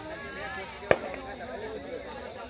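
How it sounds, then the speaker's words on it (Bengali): Bamboo knots bursting in a fire: a single sharp crack stands out amid crackling flame noise, while a person talks over the burning. "গিট ফাটছে বাঁশের।"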